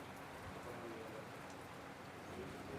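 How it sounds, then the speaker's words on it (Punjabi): Steady, dense rain patters down continuously, a soft even hiss with no breaks. "ਮੀਂਹ ਪੈਣ ਲੱਗਾ ਮੀਂਹ ਪਈ ਜਾਂਦਾਗਾ"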